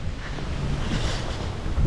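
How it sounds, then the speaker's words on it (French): Strong wind during a hurricane in Florida roars as a steady, loud rushing gust, buffeting the microphone with no voices heard. "Mais il y a énormément de vent"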